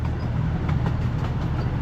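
A small amusement park train rolls along steadily through woods with a low rumbling drone and soft rhythmic clacking, close by and continuous.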